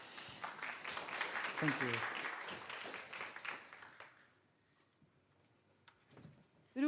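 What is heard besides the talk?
audience applause for speakers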